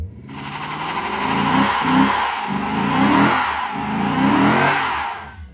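A 2024 Lexus IS 500 with its V8 does a burnout: a loud, sustained engine roar with a throbbing, pulsing rumble and hissing tire noise that rises and falls over several seconds, with no talking.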